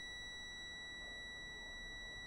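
A multimeter's continuity tester held on a mobile phone circuit board gives a steady, unbroken high-pitched electronic beep at low level throughout.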